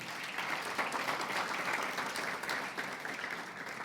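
Steady applause from a church congregation, a continuous wash of clapping hands at moderate volume without any speech.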